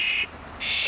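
A wild bird in a backyard gives two short, harsh calls close by, separated by a brief gap.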